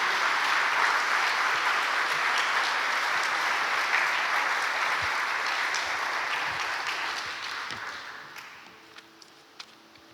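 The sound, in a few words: congregation applause for the word of God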